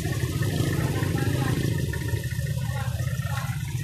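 Rushing creek water in Gabaldon, Nueva Ecija, where a vehicle fell in, gives a continuous loud turbulent roar close by, with faint voices underneath.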